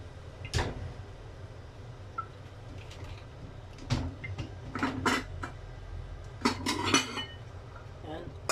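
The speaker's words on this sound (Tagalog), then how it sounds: "Maglagay lang tayo dito sa ating plato." Serving creamy cucumber salad onto a plate, with sharp clinks of utensils and dishes scattered through the clip, several in quick clusters, close and fairly quiet against a faint room background.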